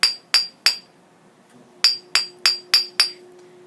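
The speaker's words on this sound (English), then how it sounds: "when you're hammering like this" Light metal hammer taps while shaping a simple handmade brooch: three quick clinking strikes, a short pause, then a steady run of five more, close and crisp with ringing metallic tails and a faint hum beneath.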